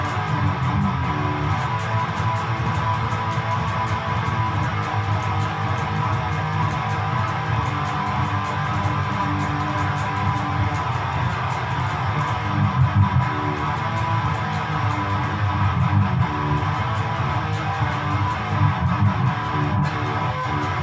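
Electric guitar plays a chorus at full speed, a dense, driving rhythmic part that stays loud and steady throughout with no talking.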